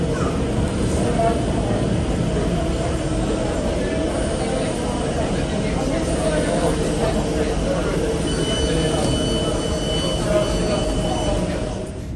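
A steady, loud rumble of a metro train riding toward the airport, with continuous rail and cabin noise throughout and no clear voices.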